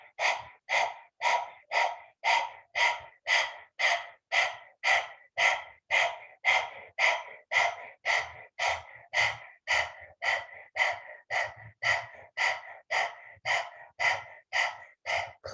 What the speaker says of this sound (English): Stick the tongue out, panting like a dog.